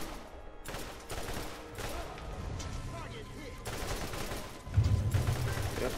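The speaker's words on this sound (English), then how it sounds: "It just sounds like something banging against like a garage door." Repeated heavy banging against a metal garage door in the Borderlands game, loud irregular thuds in bursts over a steady background rumble, with no voices.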